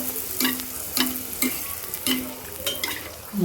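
Puri fries in hot oil while oil is ladled over the top, making a steady sizzle broken by about six rhythmic scraping, splashing strokes, close up and with no talking.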